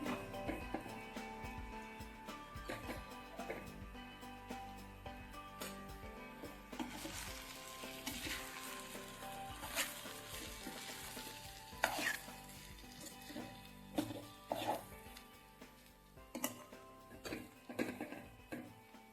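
A samba rava rice mixture stirred in a pan, with repeated scraping and clinking strokes of a spoon over a soft sizzle, growing busier and more irregular toward the end.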